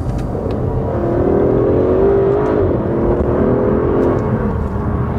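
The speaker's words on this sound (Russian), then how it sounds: "звук есть, он басистый, раскатистый, тот же самый V12" Aston Martin DB11 V12 exhaust, with turbos, revving close by: a deep, continuous, bassy roar that climbs in pitch, dips sharply and then settles into a steady rumble.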